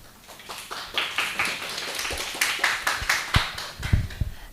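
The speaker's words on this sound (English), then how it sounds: "Give a warm round of applause." A school audience applauding student presenters at a science event, with a steady patter of claps from a small crowd, close and fairly loud, building and lingering for several seconds.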